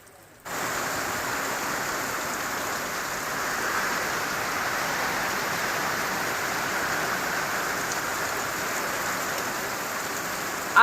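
Heavy rain falls in a continuous, even rush of noise, loud and unbroken from start to finish.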